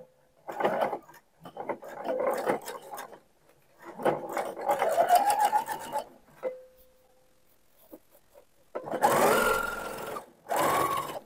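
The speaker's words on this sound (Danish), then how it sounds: "Og så er jeg klar til at sy min kantstikning hele vejen rundt om lommen." A domestic sewing machine edge-stitches around the pocket of homemade men's shorts in short, stop-start bursts with pauses for turning. A louder, denser run comes near the end.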